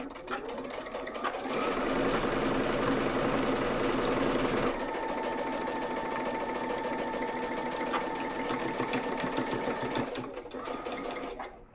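A sewing machine runs a scant quarter-inch seam on a pinwheel sampler quilt, with close, continuous whirring that slows in pitch midway as it eases over bulk, then stops.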